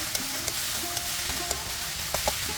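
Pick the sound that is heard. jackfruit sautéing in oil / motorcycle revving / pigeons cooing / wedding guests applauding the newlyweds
jackfruit sautéing in oil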